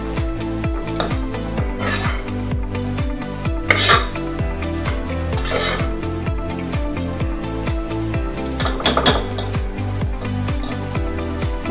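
Chicken neck pieces stirred with masala and turmeric in a pan, steady metallic scraping and clattering of a spoon against the pan in a repeating rhythm, close and continuous with no talking.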